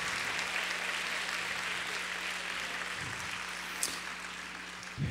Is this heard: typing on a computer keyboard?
no